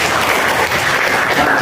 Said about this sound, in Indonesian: Oke teman-teman, tepuk tangan dulu untuk kita semua.